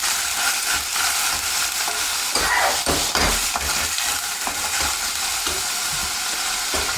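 Garlic and chopped vegetables sauté gently in a pan with seasoning, giving a steady close sizzle and frying hiss throughout, broken by a few utensil stirs and light clinks, with no voices.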